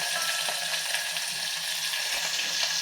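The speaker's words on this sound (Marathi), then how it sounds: "आणि गॅस मंद आचेवर करून घ्यायचा आणि त्यामध्ये ह्या मिरच्या घेतल्यात ना त्या मिरच्या घालायच्या" Green chilies fry in hot oil over a low gas flame, a continuous dense sizzle and crackle with small pops, close and steady.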